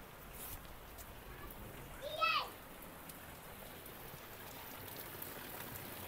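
Heavy rainwater falls from a roof into a pot set underneath during a downpour, a steady close hiss of water with a brief high chirp partway through.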